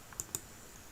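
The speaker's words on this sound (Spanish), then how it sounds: "presionamos la tecla Impress Pan In o Print Screen, dependiendo del teclado" Two quick, light key presses on a computer keyboard, the Print Screen key, tap close by against a faint steady hiss, with no talking.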